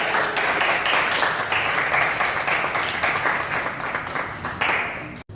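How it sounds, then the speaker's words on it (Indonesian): Students applaud in a classroom after group presentations, a loud, steady wash of many hands clapping that holds for about five seconds before cutting off abruptly. "Tepuk tangan untuk kita semua, luar biasa."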